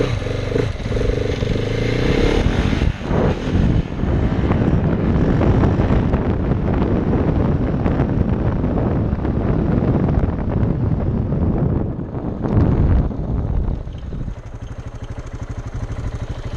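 KTM 690 SMC single-cylinder motorcycle doing wheelies, the engine revving up and down in uneven bursts close to the microphone, with heavy wind buffeting and some clatter.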